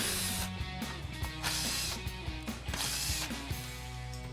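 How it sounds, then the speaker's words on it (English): Impact wrench fitted with a 10mm socket and small extension zips out grille screws on a 2011-2016 Ford F-250, a series of short ratcheting bursts with clicks and clatter between them. "So we'll grab our 10mm socket and small extension on our impact and go ahead and take those out."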